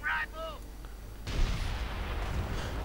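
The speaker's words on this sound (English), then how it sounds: "The snipers just went down to a direct howitzer hit." Howitzer shell strikes in a real-time strategy video game, a sudden booming impact with a rumbling tail lasting over a second, following a brief game sound effect.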